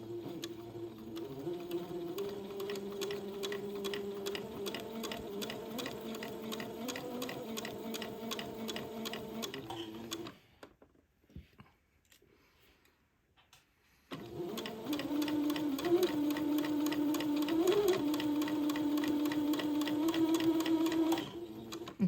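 Sewing machine run by foot pedal stitches across the brim of an Easter bonnet, a steady close mechanical whir running in long stretches with a brief pause midway before resuming.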